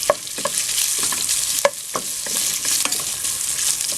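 Pork frying lightly in about a teaspoon of cooking oil for macaroni soup, a close, continuous sizzle and crackle with occasional sharp pops and utensil clicks, no voices.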